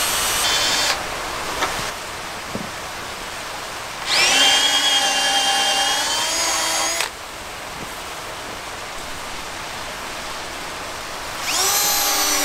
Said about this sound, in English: Boy, that drill bit works so much better